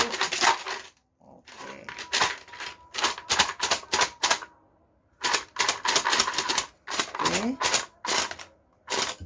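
Tarot cards are shuffled by hand in bursts of crisp, rapid riffling and slapping, close and fairly loud, with short pauses between the bursts; there is no talk over it.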